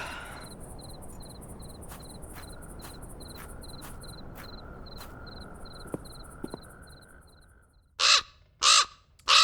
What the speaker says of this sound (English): It's the bird again.